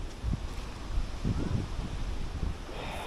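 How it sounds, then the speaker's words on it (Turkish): Wind gusts buffet the microphone with low rumbling bursts over a steady outdoor hiss on a beach at Narlı, Erdek. "Ara sıra bir rüzgar esiyor var ya."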